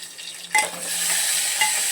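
Cumin, garlic and curry leaves hit hot oil in a pan with a sudden loud sizzle. The sizzle settles into steady frying crackle, and a second smaller burst comes near the end.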